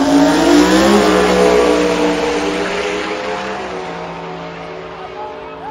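A Ford race car with a 6R80 transmission accelerates hard in a drag race against a Supra, engine roaring loud and close with rising gear-driven whine that slowly fades as it pulls away.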